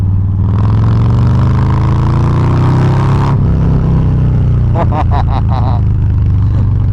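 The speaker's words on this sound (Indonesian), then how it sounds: "Kemudian juga ini suara dari knalpotnya ini ya, Bassani ini luar biasa," A Harley-Davidson Low Rider ST fitted with a Bassani exhaust revs up close and loud, a deep throbbing engine note rising, then cutting back with a few short sharp blips near the end.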